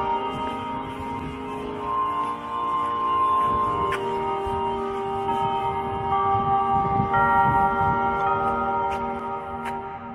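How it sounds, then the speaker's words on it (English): Bell tower music at Highland cemetery: sustained, ringing bell tones play a slow melody, with occasional brighter strikes over steady outdoor background noise for about ten seconds. "Let's wrap up our time here at Highland enjoying a little music from the Bell Tower."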